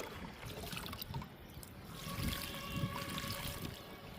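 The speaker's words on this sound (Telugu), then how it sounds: "వాటర్ జల్లుదాము." Water sprinkled over mixed potting soil filling tubs gives a soft, steady trickling patter, close by and moderately quiet, with no voices.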